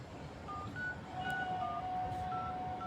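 Faint phone dialing tones beep one after another at a steady pace, thin and quiet over a low background hum with no talking.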